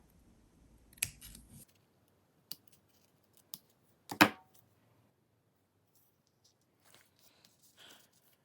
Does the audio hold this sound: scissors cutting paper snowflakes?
yes